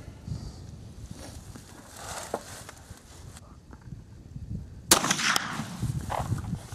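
Savage 220 slug gun firing Remington AccuTip slugs at an outdoor range, two or three sharp reports spaced apart with the loudest near the end, heard at moderate distance over wind and ambient noise.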